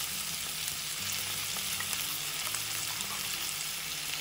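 Ivy gourd mixed with ground onion paste frying in a pan over a medium flame gives a steady, close, crackling sizzle with faint stirring scrapes and no voices.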